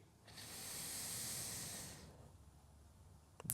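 A long, steady inhalation through the nose during a gentle morning exercise routine, swelling and fading over about two seconds, close and clear, followed by quiet room tone and a small click at the end.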